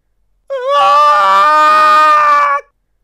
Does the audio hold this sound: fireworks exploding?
no